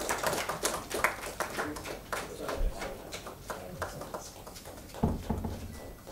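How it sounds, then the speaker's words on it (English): Audience clapping at a business conclave honouring panelists, fairly quiet and uneven, with individual hand claps audible in a loose, irregular patter rather than a dense roar. "Please put your hands together."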